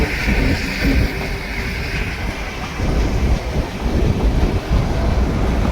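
The Ooty toy train running from Udagamandalam to Mettupalayam, giving a continuous rumbling roar of wheels and carriages with wind buffeting, loud and steady through the whole stretch.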